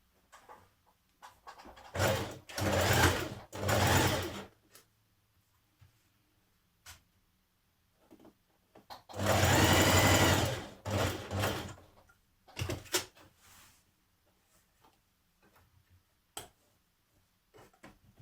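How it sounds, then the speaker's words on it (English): A sewing machine stitches around a New Look 6602 dress in short bursts of fast, close whirring, separated by pauses with faint ticks and handling noises. "So we're going to stitch around here and then we're going to trim it."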